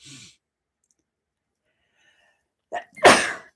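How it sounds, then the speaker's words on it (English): After near silence and a faint breath, a single loud sneeze bursts out close to the microphone, preceded by a short sharp intake. "I'm going to sneeze."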